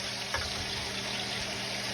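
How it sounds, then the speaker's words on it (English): Chicken skin browns in a pan for a one-pan chicken fricassee with onion, fennel and artichokes. A steady, dense sizzle holds at an even level throughout, close and unbroken, with no talking. "the pan is, and the sizzles come up"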